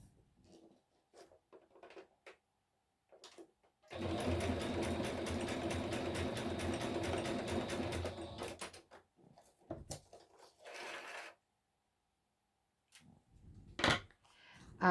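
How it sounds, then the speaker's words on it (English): A sewing machine stitches a corner pocket in one steady run of about four seconds, with light handling clicks and rustles before and after. "let me stitch this really quick"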